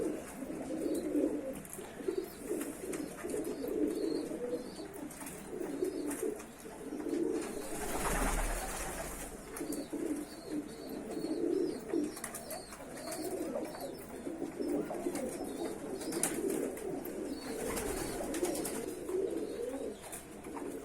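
Pigeons or doves coo steadily inside a poultry coop, a close, continuous murmur of overlapping low calls with faint chirps above, no speech.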